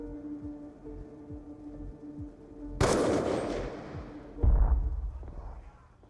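Gunfire from the video game Call of Duty: Black Ops 2: a sharp, loud blast erupts over a low droning background, then rings out and decays, followed by a second heavy booming shot before the sound fades away.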